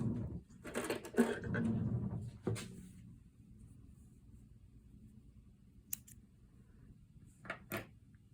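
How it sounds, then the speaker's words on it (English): Scissors cutting yarn after tying off a crocheted hexie granny square: a close burst of rustling and snipping early on, then near quiet broken by a few sharp clicks. "I'm gonna cut this yarn."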